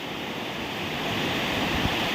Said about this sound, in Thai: ฝนตกทางลมแรงนะครับผม